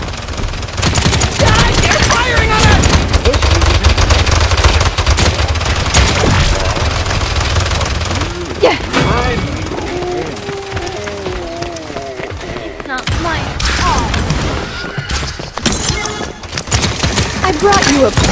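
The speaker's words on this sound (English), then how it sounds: "They're firing on us!" Dense, loud gunfire fills a Paladins beta payload match against online players, with rapid overlapping bursts and game effects nearly nonstop and voices speaking over the shooting.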